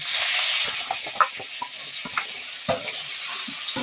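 Cleaned drumstick pieces dropped into a pan of sizzling mustard-seed tempering, an intense hiss at first settling into crackling fry with irregular scrapes and knocks of stirring, close and alone.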